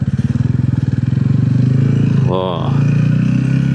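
A touring motorcycle rides along with a loud, close, steady engine rumble and rapid pulsing throughout, a brief clatter mid-ride, and a voice speaking briefly over it.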